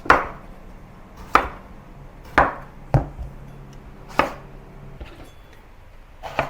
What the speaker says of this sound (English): So first you have to cut away both ends.